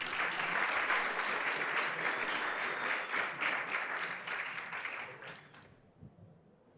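An audience at a crypto exchange panel event applauds a guest with steady, full clapping for several seconds before it dies away into near silence.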